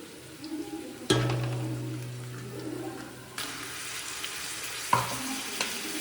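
Ginger garlic paste dropped into hot oil in a pan, a sudden burst of sizzling after a quiet moment that continues unevenly, with a couple of sharp clatters and stirring sounds of a utensil.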